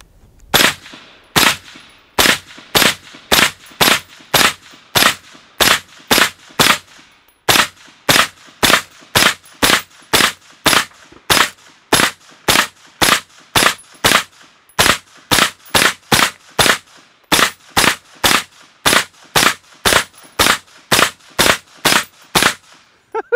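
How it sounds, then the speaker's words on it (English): Rifle fired at a short-range steel target plate: about forty loud, sharp shots in a fast, evenly spaced string, with brief pauses between groups and no talking. "you need to understand what the risks are when you shoot steel"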